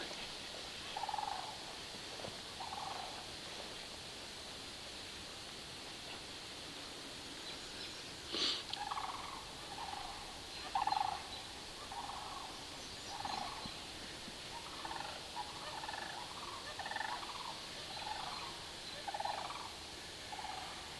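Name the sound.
bird calling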